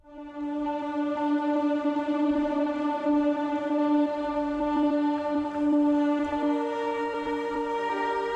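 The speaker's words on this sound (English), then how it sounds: "minor spaceship atmosphere, which sounds like this." A sustained, droning minor-key synthetic pad from a sample pack, steady tonal layers forming a dark spaceship atmosphere, holding evenly without rhythm or voices.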